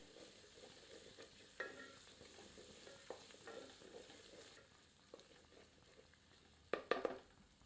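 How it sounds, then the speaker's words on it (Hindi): Onion frying with ginger garlic paste over medium heat in a keema kaleji dish, a soft steady sizzle with occasional scraping stirs and a few louder clinks near the end. "इसे प्याज के साथ मिलाकर 2 मिनट मध्यम आंच पर भूनते हैं।"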